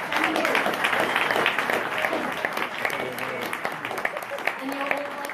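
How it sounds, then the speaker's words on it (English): Audience at a comedy debate gig in Sydney claps for the debaters, a moderate, fairly close patter of hands that thins slightly toward the end while voices chatter underneath. "Please have a round of applause for our comedy debaters."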